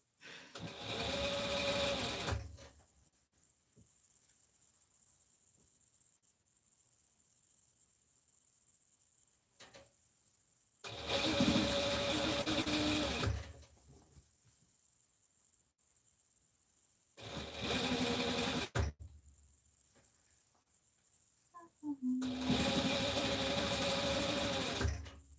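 A sewing machine stitches binding onto a garment in several separate bursts, each a loud, close, rapid mechanical whirr lasting a few seconds, with quiet pauses between runs.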